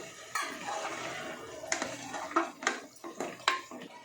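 Peas, carrots and potatoes tumble into a cooking pan in a few soft clattering drops, with light scraping and clinks of a utensil against the pan. No talking.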